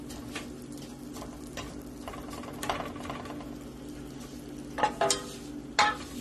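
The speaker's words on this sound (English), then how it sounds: "So I will make my vermicelli a little bit brown before I add the rice." Vermicelli browning in a pan before rice goes in, a low steady sizzle with sharper scraping stirs and clatters near the end, close by with no speech.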